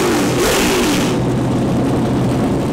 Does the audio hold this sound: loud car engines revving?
yes